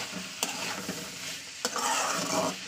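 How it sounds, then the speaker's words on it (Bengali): Peas sautéed with turmeric and garam masala in a pan for ghugni, giving a steady sizzle with a few sharp scrapes of a spoon stirring, close and continuous. "আমি এই হলুদ আর গরম মশলাটা দিয়ে আমি একটু কষিয়ে নেবো 3-4 মিনিট"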